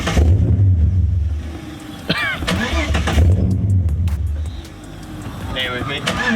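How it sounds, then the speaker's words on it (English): A turbocharged 4.0L Intech engine in an AU Falcon drift car, fitted with a stage 2 cam, idles with a loud, steady low rumble throughout, and brief higher mechanical whines rise over it now and then. "I want to film some idling noises."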